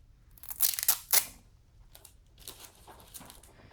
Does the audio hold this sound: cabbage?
no